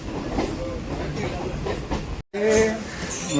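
A Kolkata circular railway train pulls into BBD Bagh station with a rumbling, rattling wheel noise and clicks under a voice, then a brief dropout before louder carriage and platform clatter.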